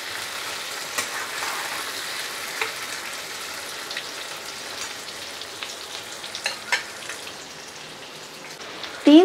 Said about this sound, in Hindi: चिकन को हम 3 से 4 मिनट पहले अच्छे से भूनेंगे